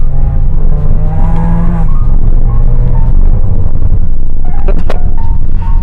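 A 2019 Mazda 3 hatchback with a modified exhaust revs in first gear, giving a loud, raspy, crackling roar with rising and falling revs and sharp pops toward the end.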